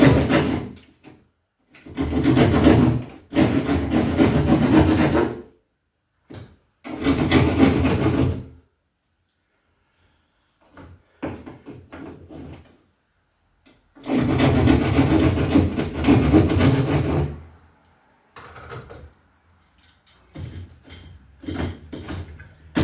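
Hand-cutting to widen an opening in a wall for an old-work metal electrical box, loud close bursts of rasping, sawing strokes in several bouts separated by pauses, with a few small knocks and scrapes between.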